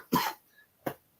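A person coughs twice: a harsh, close burst at the start, then a quieter, shorter cough about half a second later, with near silence between.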